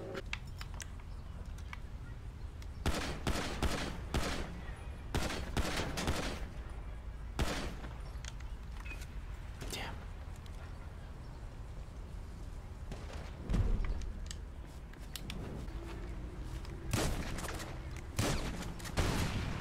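Rapid bursts of gunfire in Grand Theft Auto V, repeated volleys of sharp shots scattered across the stretch, with brief gaps between clusters and a busy game background.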